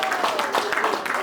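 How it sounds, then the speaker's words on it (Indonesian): A church congregation gives a quick burst of scattered clapping during a sermon, brief and fairly close, ending almost as soon as it starts. "Tepuk tangan."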